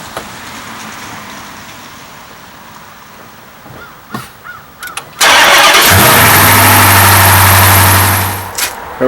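A 2015 Dodge Charger Pursuit with a 5.7 Hemi V8 cranks and fires midway after a quiet stretch with a few clicks, then settles into a loud, steady idle nearby.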